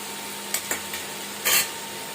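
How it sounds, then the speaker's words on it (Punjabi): Onion, garlic and green chili paste frying in a pan, a faint low sizzle broken by a few short scraping stirs and one longer rasping stroke near the end, close by. "ਪਿਆਜ਼ ਲਸਣ ਮਿਰਚਾਂ ਦਾ ਪੇਸਟ ਭੁੱਜਣ ਦਿਆ"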